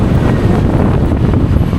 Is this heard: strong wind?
yes